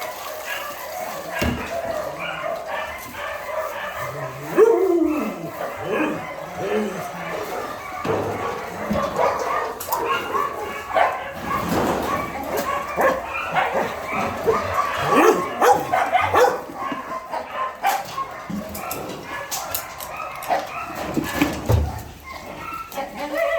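Several dogs at a dog shelter in Bečej, Serbia bark, yip and whimper in a noisy, busy stretch, with some muffled thumps and a bit of background voice.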